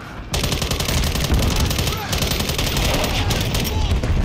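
Loud rapid automatic gunfire in Call of Duty Modern Warfare III multiplayer, sustained bursts of close, dense shots that run almost without a break, with a voice now and then over the shooting.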